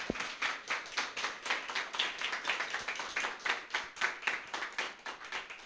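A church congregation claps together in quick, steady rhythm, many hands beating in unison at a lively even pace, close and continuous with no speech.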